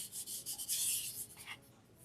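Hand rubbing and smoothing material down onto a canvas, a series of soft, close brushing strokes in quick succession.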